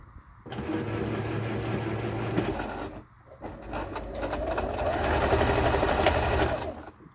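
A sewing machine stitches fabric for a cloth basket, running steadily in two loud, close bursts with a brief pause between them as the seam is sewn around.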